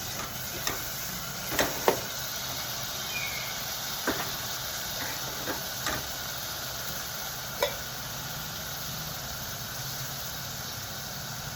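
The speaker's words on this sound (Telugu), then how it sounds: "ఇది బాగా వేగాలి, పచ్చి వాసన లేకుండా." Masala and salt fry in a pan with a steady, even sizzling hiss, broken by a few scattered soft pops and crackles.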